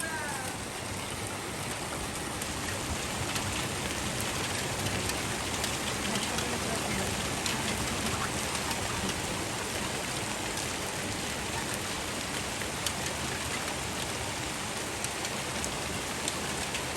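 Heavy rain pours steadily in Sialkot, a dense, unbroken hiss of drops on surfaces lasting throughout, fairly close and without clear voices.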